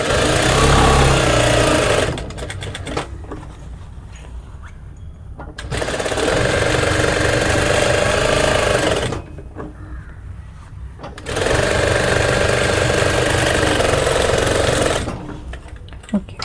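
A sewing machine stitches the pocket of a sling bag in three sustained buzzing runs, loud and close, with brief quieter pauses between them where handling noises and faint background sounds come through.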